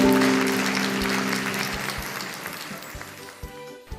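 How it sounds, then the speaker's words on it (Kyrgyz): A children's class audience claps in a steady wash of applause that starts fairly strong and gradually thins out, with a low background hum and a few louder isolated claps near the end. "Туура, кол чабуулар"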